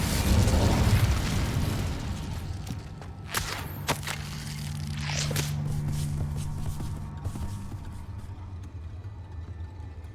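Incendio fire spell cast in Hogwarts Legacy, a whooshing burst of flame that fades into crackling rumble and scattered pops, no voices.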